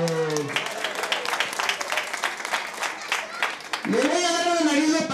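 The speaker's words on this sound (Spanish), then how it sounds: "Ah, aplausos para" A small crowd at a children's party with a clown gives a short burst of scattered clapping for a child. A voice speaks briefly before the clapping, and an animated voice comes back over it at the end.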